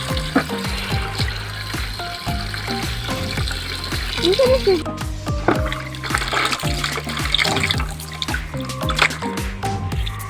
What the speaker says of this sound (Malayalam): ഇതിനകത്തെ വെള്ളം അങ്ങോട്ട് ബക്കറ്റിലോട്ട് അടിക്കുകയാണ്